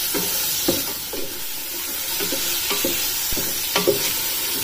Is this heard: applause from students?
no